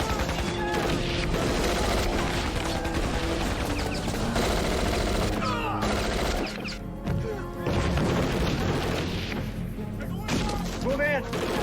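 Gunfire from a crime movie shootout, dense crashing volleys and impacts filling the scene nearly continuously, layered with music and shouted voices.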